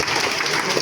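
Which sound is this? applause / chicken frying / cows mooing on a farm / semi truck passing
applause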